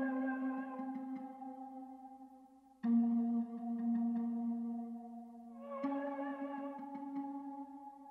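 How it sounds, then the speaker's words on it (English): A low, warped flute sample in FL Studio plays a slow, sustained tone that shifts pitch twice, each new note starting with a soft attack and holding on with airy harmonics, alone with no voices. "Then next, I added this low frequency flute that sounds like this"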